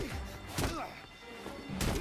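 Heavy melee punches and strikes land in the Gotham Knights game: a couple of sharp, loud thuds spaced about a second apart over busy combat noise.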